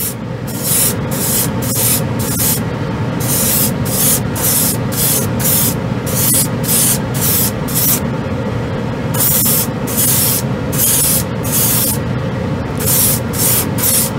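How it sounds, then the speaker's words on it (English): A Harder & Steenbeck Colani airbrush with a 0.4 mm needle sprays red primer onto a model wing in a loud, steady hiss, briefly broken by repeated short interruptions of airflow throughout. "And I'm pushing a lot of paint, and there's a ton in here still, so it really atomizes the paint."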